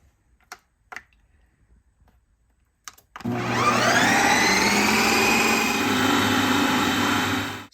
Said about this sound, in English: And now I'm ready to blend it.